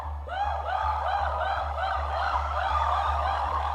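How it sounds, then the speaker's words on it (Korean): An emergency siren wails through an exhibition hall where an overheating robot is malfunctioning: a continuous, rising and falling electronic tone repeats steadily over a low, droning hum, loud and close. "전지장 전체에 비상 사이렌이 울려 퍼졌다."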